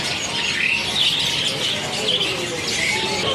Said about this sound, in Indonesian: Seperti ini. Kenari gacoran